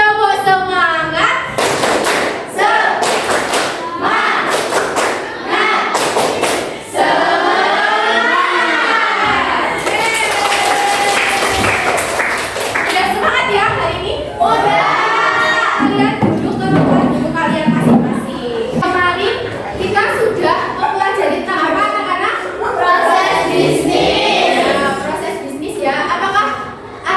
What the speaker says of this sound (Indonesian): Kita tepuk semangat dulu biar tepuk semangat.